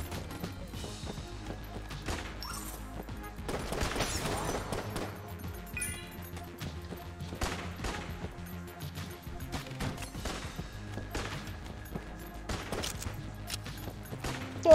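Rapid bursts of gunfire in the video game Enter the Gungeon crackle repeatedly over a steady background of game music and effects, with sharp impacts scattered throughout.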